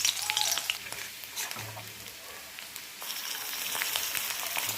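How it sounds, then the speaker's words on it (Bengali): Chopped garlic sizzles in white oil in a wok, a soft, steady crackling hiss heard close up with a brief stirring scrape. "কড়াইতে সাদা তেল দিয়ে দিয়েছি। এবার রসুন কুচি দিয়ে দিই।"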